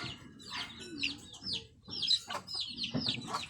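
Many chickens at a house's coop cluck and chirp in quick overlapping calls, several birds nearby at moderate volume with short squawks and a low continuous background murmur.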